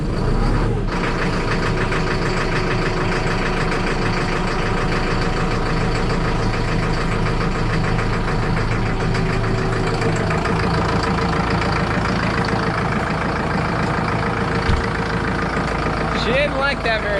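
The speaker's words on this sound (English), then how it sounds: "Kubota tractors and equipment have very high compression motors, which is why they start hard in the cold." High-compression Kubota tractor diesel engine cranking and starting in the cold, a loud, rough, clattering run that settles into a steady idle and stays close throughout, with speech heard at times.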